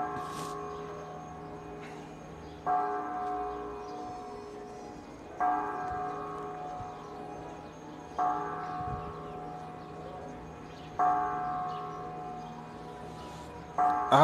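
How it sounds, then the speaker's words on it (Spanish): Church bells ring out over a village in Michoacán, with rounds of strikes recurring every few seconds at moderate distance, a steady ringing tone lingering between them and no talk. "Hoy nomás las campanadas de mi pueblo"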